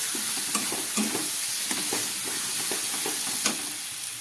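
Prawn curry stir-frying with ground spices, pepper and a little ghee, a steady close sizzle broken by repeated spatula scrapes and taps against the pan, with no talking.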